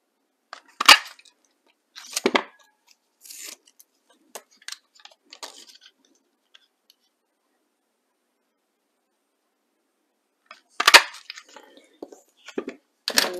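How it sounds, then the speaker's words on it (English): Scissors snip through paper and card to cut out wing shapes for a ladybug envelope gift card holder, giving short crisp cuts in two clusters separated by a long quiet pause. "I'm going to cut out the wings"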